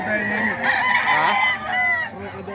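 Crocodile hen chickens at a poultry sale in Bocaue, several birds clucking and crowing close up in overlapping bursts, with a faint voice underneath.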